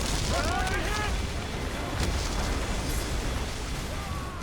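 Cannon fire booms through a naval battle in Assassin's Creed Rogue, a dense, continuous roar of broadside blasts and rumble with shouted crew voices layered over the din.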